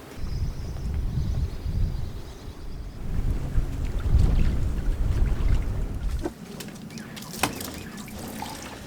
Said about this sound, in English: the wind has started picking up